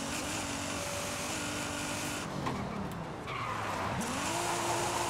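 Tires of a modified 2019 Nissan 370Z skid and squeal through drift slides in Forza Horizon 5, with engine roar throughout and a loud rising screech toward the end; no talking.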